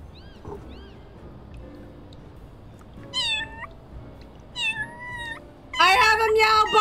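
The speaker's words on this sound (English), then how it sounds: "I have a meow button." Kitten meows from the video game Little Kitty Big City: a few soft mews early, then two clear rising meows mid-clip and a louder, stacked meow at the end, all over faint game ambience.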